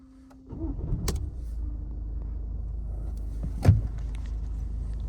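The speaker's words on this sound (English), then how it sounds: "let's fire this one up" A 2019 Peugeot 308 SW engine cranks briefly on a conventional key and catches, settling into a steady low idle rumble with a sharp click partway through.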